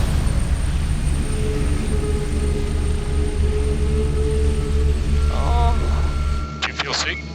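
Helicopter cabin noise during patient transport by paramedics, a loud steady engine and rotor drone with tonal whine throughout, joined by voices talking near the end.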